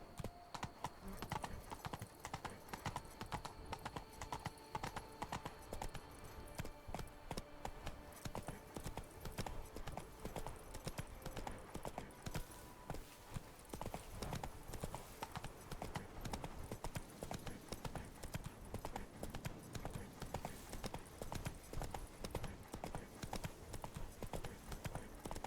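Hooves of Roach, the horse in The Witcher 3: Blood & Wine, clop in a steady fast galloping rhythm over continuous game ambience, quite faint overall, with a brief neigh-like sound early on.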